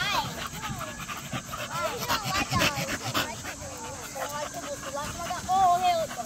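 Dogs pant close by in rapid, continuous breaths, joined by occasional whimpers and whines, while someone talks over them.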